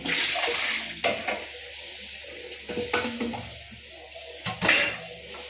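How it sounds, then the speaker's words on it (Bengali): Apples and dates are washed in water, with splashing, sloshing and bursts of running water alongside light clatter of a bowl, close and fairly loud with no talk. "আপেল আর খেজুর এই দুটো একটু ভালো করে ধুয়ে নিয়ে তারপর খাবারটা বানাবো"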